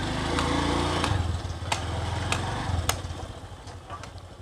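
A Hero Passion X Pro motorcycle rides over a rough, bad road, its small engine droning steadily and loudly up close, with sharp clunks and knocks from the bumpy surface breaking through at intervals.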